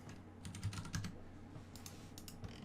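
Steady typing on a computer keyboard during 3D modelling work, close and fairly quiet, with quick clusters of key clicks and brief pauses, no one talking.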